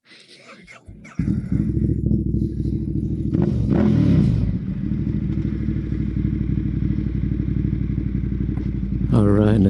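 A Monster motorcycle is started up nearby. After a few quiet seconds, the engine catches with a clattering start and revs briefly, then settles into a loud, steady, rumbling idle, with another rev at the end.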